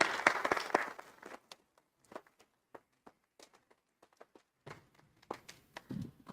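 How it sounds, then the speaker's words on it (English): Audience applause at a town council meeting starts as a brief burst of clapping, then thins to scattered single claps and taps, with a fresh short flurry near the end, all fairly quiet and distant. "Round of applause"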